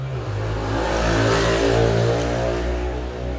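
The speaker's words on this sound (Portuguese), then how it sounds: "Eu me distraí com o barulho da moto." Motorcycle passes by outside, its mid-pitched engine droning steadily and rising to a peak near the middle before easing off as it moves away; no one speaks over it.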